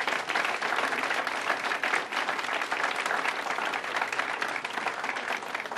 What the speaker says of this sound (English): So can we give them another round of applause?